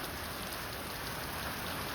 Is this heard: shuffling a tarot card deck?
no